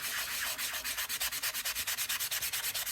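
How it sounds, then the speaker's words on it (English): Close, rhythmic rasping of coarse, gritty sandpaper on a sanding block over solid-core craft paper, about eight quick back-and-forth strokes per second, steady and loud with no talking. "This is really gritty, this sanding block, compared to what I've normally used."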